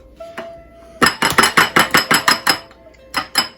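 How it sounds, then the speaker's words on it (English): Bowls clink sharply while egg yolks are separated: a rapid run of about ten bright glassy taps, then two more after a short pause, close and loud with no talk. "Now it's time to separate your egg yolks."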